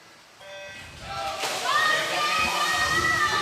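Swimmers plunge into pool water at the start of a high school boys' swim race, a rising rush of splashing and sloshing that swells and holds steady, with an announcer's voice and crowd noise in the background.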